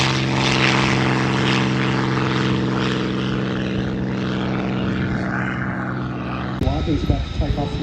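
Spitfire and Mustang piston propeller fighters at an airshow drone loudly and steadily with a harmonic engine note. Near the end the noise cuts out and a voice speaks.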